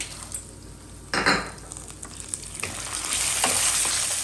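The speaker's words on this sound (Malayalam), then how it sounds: "ആ കാഷ്യൂനട്ടും ഒന്ന് റോസ്റ്റായി വരുമ്പോഴത്തേക്കും നമുക്ക് നമ്മുടെ പൊട്ടുകടല ഇട്ട് കൊടുക്കാം" Cashews and roasted gram frying in a pan sizzle steadily, with a louder burst of crackling midway as more go in, plus occasional spoon stirs and pan clinks close by.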